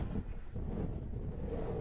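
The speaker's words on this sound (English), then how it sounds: "The wind, it's a blustery day out here. It's pretty high wind." Strong, blustery wind buffets the microphone on a high lookout on Flores in the Azores, a steady roaring rush with no pauses.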